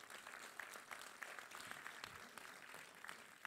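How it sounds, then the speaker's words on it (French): Soft, distant applause from an audience at a town's New Year greetings ceremony, a steady patter of many hands lasting a few seconds, faint and even throughout. "vous pouvez applaudir"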